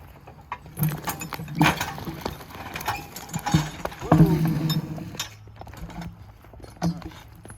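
Two work horses named Duke and Dan skid logs on the ground, with irregular hoof thuds, harness and chain jangling, and scattered knocks in an outdoor woodlot, plus brief sounds of a voice.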